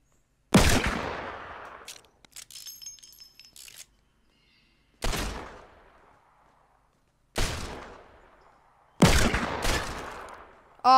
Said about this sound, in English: Keep shooting me, keep shooting me, keep shooting me.